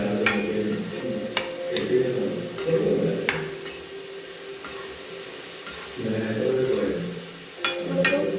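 Vegetables and capsicum for a veg pulav are stirred in a hot pan, with repeated bursts of spoon scraping over a steady oily sizzle, close and fairly loud.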